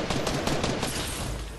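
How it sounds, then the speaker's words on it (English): Video game gunfire crackles as a dense, continuous burst of rapid shots, loud and close, with no talk over it. "they shot me from behind"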